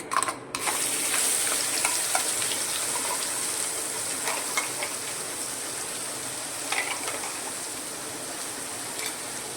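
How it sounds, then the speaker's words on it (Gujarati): A spice paste sautés in hot oil with asafoetida, a star anise and a bay leaf, a continuous close sizzle with stirring scrapes and sputters after a brief sharp clatter at the start. "અને પેસ્ટને આપણે સાતળી લેવાની છે"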